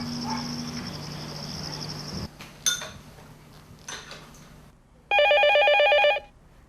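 A telephone rings in short electronic trills, pausing between rings, with a faint chirping background and no voices.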